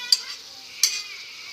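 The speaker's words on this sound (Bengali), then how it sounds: "মাছগুলো ভাজা দিয়ে দিলাম, দিয়ে ভালো করে নেড়ে চেড়ে নেব।" Fried kuche fish, a spicy eel-like fish, is stirred into a bubbling hot curry in a pan, a steady low sizzle broken by two sharp scraping strokes of the spoon.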